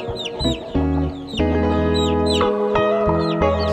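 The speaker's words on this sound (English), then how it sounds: "12 young and beautiful chicks," Twelve newly hatched chicks on a free-range chicken farm cheep loudly and close by in rapid, overlapping high peeps, with lower clucking calls running underneath.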